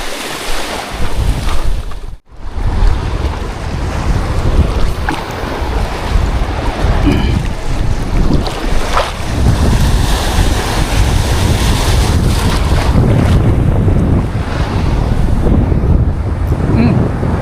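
Strong wind buffets the microphone alongside breaking surf at Madrona Beach Resort, a loud continuous roar with gusty swells and one brief dropout early on, with no talking.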